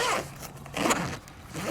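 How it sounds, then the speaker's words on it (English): A zipper on a Jeep JK soft top is pulled closed in a couple of quick, close ripping strokes, with short rasping bursts and brief pauses between them. "Close the zipper."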